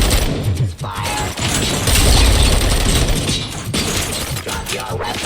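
Continuous heavy gunfire in RoboCop: Rogue City, with dense overlapping shots and crashing impacts that stay loud and close for the whole stretch, with no clear pause.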